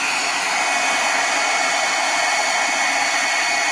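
A heat embossing tool blows hot air over a stamped card, a steady loud whooshing fan hiss like a hair dryer, continuous and close with no speech.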